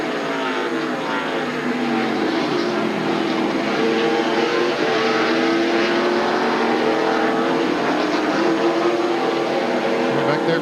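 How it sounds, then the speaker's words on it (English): NASCAR stock cars race at Sears Point in 1999, a dense, continuous engine roar of many cars with shifting tones as they pass, loud and steady throughout, with crowd and broadcast ambience underneath. "Got himself a good jump. Got about 3 car lengths out in front of Mark Martin."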